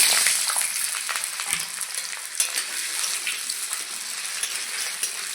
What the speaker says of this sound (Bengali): তো আলুও ভেজে নেব আমি